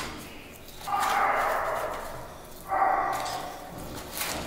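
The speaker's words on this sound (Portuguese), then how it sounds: "E a Tiff tá ali latindo" A small dog barks from another room at home during bathroom renovation work, two short bursts of yapping about two seconds apart, moderately near over quiet background.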